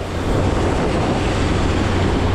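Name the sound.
fishing boat engine whistling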